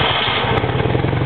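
An Uber Panzer motorcycle engine runs close by with a steady, loud mechanical chug and no other sounds.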